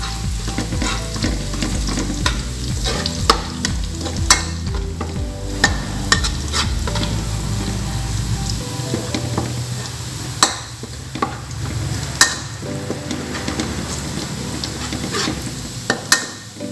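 Chopped onion sautés in a hot pan for spaghetti sauce, with a steady sizzle under repeated spoon scrapes and clinks against the pan, close and loud.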